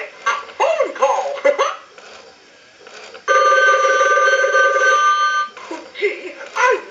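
Mickey Mouse animated novelty telephone running its demo mode: a loud, steady electronic ring burst of about two seconds, bracketed by a cartoon character's voice talking before and after it.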